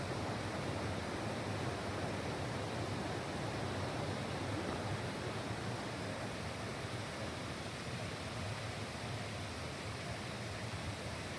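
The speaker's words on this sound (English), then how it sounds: "that pipe is just discharging the onsen." Hot spring water pouring steadily from a discharge pipe at a ryokan onsen in Suzaka, Nagano, a constant broadband rush like a small waterfall, close and unbroken throughout.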